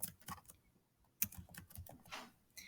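Keys clattering on a computer keyboard in irregular bursts of quick taps, close and fairly quiet, as a book title is typed into a document formatted in MLA style.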